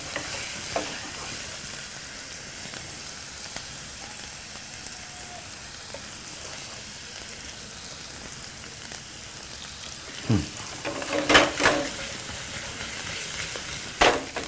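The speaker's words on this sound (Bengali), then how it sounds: "চিংড়ি মাছটা দিয়ে দাও এর মধ্যে" Raw prawns go into a hot pan with garlic and onion paste for Chingri Malai Curry, giving a steady, close frying sizzle with a few clattering stirs and scrapes near the end, and no talking.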